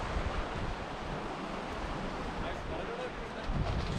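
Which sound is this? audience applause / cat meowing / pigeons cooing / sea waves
sea waves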